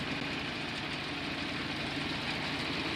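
An old tractor engine idles in Farming Simulator 22, a steady, dense rumble that stays level throughout with no breaks.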